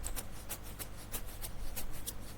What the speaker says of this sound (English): This is the sound of shaker without EQ,